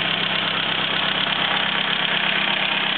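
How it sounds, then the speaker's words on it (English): A 1934 Morris 10 engine idles steadily and evenly throughout, cold, with no exhaust blow, a constant low mechanical hum with no revving or speech. "That runs a bit better, the exhaust isn't blowing."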